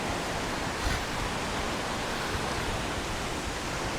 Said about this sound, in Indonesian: air terjun Kapas Biru.